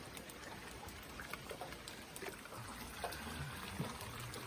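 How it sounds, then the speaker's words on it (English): Steady light rain falls outdoors beside a house and pool shed, a soft continuous patter with scattered drips, fairly faint and even throughout, with no voices over it. "It's raining though."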